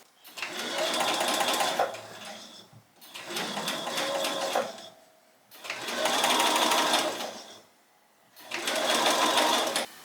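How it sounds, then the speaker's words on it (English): A sewing machine stitches bias tape onto a skirt in four steady running bursts of rapid mechanical whirring, each a couple of seconds long, separated by short pauses. "sewing down the bias tape on the last 2 skirts"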